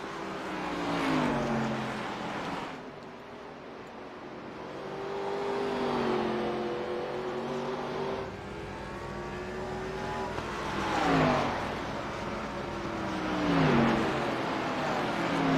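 Race cars roar around the short oval at Nashville Fairgrounds during a 200-lap event, engines rising and falling in pitch as several cars sweep past in repeated loud waves with no talk over them.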